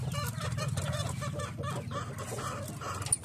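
Flock of backyard chickens, hens with their chicks, clucking continuously at close range with overlapping calls over a steady low farmyard rumble, no talking.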